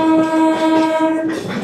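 An Asansol–Bardhaman MEMU train sounds a loud, sustained horn blast close by, lasting over a second before breaking off, with rail noise underneath.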